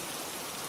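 Steady rain falls without pause, a soft, even hiss of drops spread across the whole range at a low, constant level with no voices.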